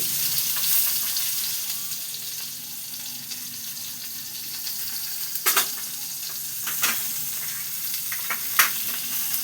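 Pointed gourd pieces fry in oil in a pan, making a steady, close sizzle with a few sharp crackles and spatula scrapes in the second half.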